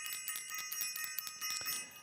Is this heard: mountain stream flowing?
no